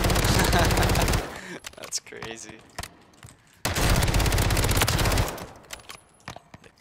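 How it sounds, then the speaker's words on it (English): FJX Horus fired in Warzone: two long, loud bursts of rapid automatic gunfire close up, separated by quieter gaps with scattered single shots and someone speaking briefly. "I'm trying to use this new gun, the FJX Horus, but it just seems so inaccurate."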